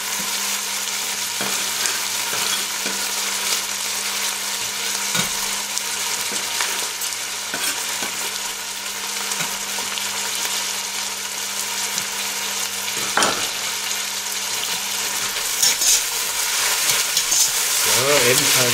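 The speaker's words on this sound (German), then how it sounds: "Ebenfalls hier schön mit anschwitzen, dass wir die volle Aromatik aus der Paprika hier rausziehen." Onions and paprika sautéing in a pot for Mangalica pork goulash, a continuous close sizzle broken by occasional scraping and clinking from stirring.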